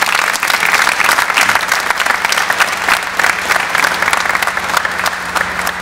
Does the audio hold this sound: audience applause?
yes